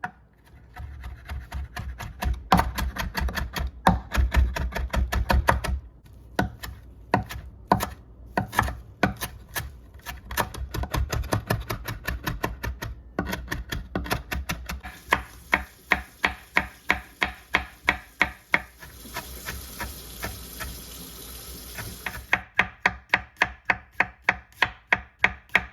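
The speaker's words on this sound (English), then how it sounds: "we're gonna chop them up real fine" A knife chops fresh oregano finely by hand on a cutting board for chimichurri, rapid rhythmic taps in steady bursts with short pauses, close and clear, alone without talk.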